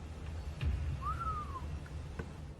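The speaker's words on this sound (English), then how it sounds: "When she asks if there's anyone there, she hears a whistle." A single faint rising-then-falling whistle inside a reportedly haunted place, one smooth tone lasting about half a second over a low rumbling background, with a few soft ticks around it and no speech.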